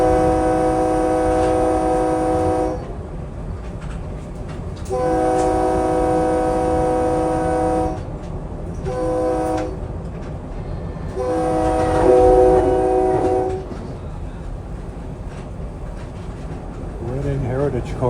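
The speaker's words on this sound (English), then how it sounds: "that 6-car Silverliner 4 set that just passed by" A six-car SEPTA Silverliner 4 commuter train passes, sounding four horn blasts (two long, a short one, then another long one) over a steady rolling rumble of rail noise.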